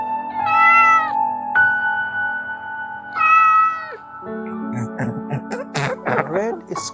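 A house cat gives two drawn-out, close meows, followed by a burst of quick chirpy, broken vocal sounds near the end.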